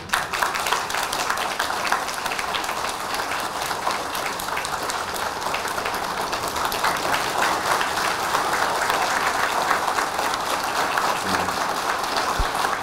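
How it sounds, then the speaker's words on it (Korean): Loud, sustained applause from a Korean audience at a Buddhist monk's lecture in Los Angeles, a thick, even roar of many clapping hands that swells slightly and keeps going for over twelve seconds. "여러분 박수를 크게 쳐주세요"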